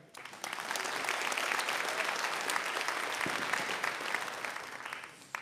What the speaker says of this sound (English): A round of applause from Manchester's Night and Day Café.